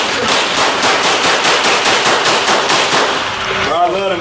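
Rapid bursts of gunfire from an AR-22 rifle at an outdoor shooting range, a fast regular string of loud cracking shots for about three and a half seconds, then a pause with faint voices.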